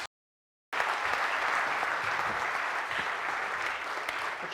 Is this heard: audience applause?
yes